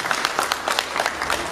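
Applause from an audience at a ceremony honouring Sergeant Aqil Mürsəloğlu Əhmədov, a survivor, with dense clapping that rises and falls across a short stretch.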